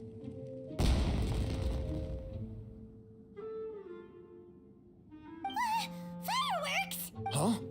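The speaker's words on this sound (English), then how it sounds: "Was that an explosion? It sounded like fireworks." Fireworks bursting in a story video game: a loud booming blast followed by a decaying rumble, then quieter crackles, with game music and whistling tones later.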